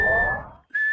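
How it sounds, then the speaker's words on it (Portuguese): Cartoon puppy whistles through the gap left by a missing tooth, two short, clear, steady whistle notes separated by a brief silence. "eu consigo assobiar por onde tinha meu dente"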